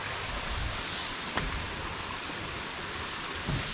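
A small waterfall stream flows beside a tree house in Yercaud, giving a steady, even rush of water throughout with one faint click partway through.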